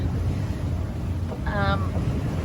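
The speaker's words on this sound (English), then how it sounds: "It's very beautiful, but it's definitely not a calm sea." Rough, choppy sea waves surge around a sailing boat heeled well over under reefed sails in bright weather, heard as a steady roaring wash mixed with gusting wind buffeting the microphone.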